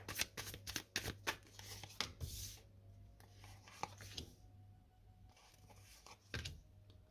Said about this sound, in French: on va poser 3 cartes du tarot